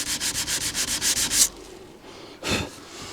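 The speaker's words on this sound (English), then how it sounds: "You've just got to get on with hand sanding, trying to get into all these little grooves" Sandpaper rubbed by hand across worn wooden furniture in quick, regular back-and-forth strokes, about ten close, rasping passes, then a pause and one more stroke.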